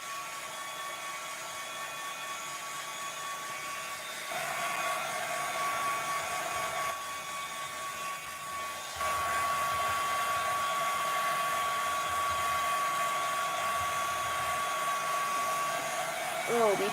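Heat tool blowing hot air onto a craft layer, a steady close whine that runs continuously throughout, shifting slightly louder partway through, with no talking.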